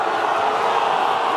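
A rugby league stadium crowd at an NRL 2024 Round 27 match between the Panthers and Titans fills the air with a loud, steady roar, a broad wash of massed voices that stays constant for the whole moment.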